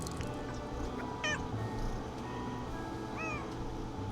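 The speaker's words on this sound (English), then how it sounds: "Cross-eyed cat, yeah. Yeah, good kitty." A cat meows in the video game Nancy Drew: Secret of the Old Clock, two short mews over a steady ambient game background.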